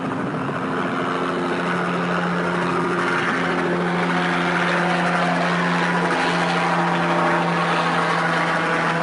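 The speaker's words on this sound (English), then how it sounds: "I believe it was a police helicopter." A police helicopter's steady rotor drone hums overhead, loud and continuous with a low throbbing tone and no voices.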